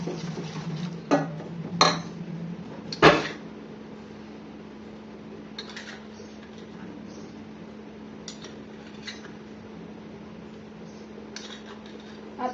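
Spices, including asafoetida and salt, mixed with a spoon in a pot for raw mango pickle: a few sharp metallic clinks and scrapes at the start, then a low steady hum with faint occasional taps.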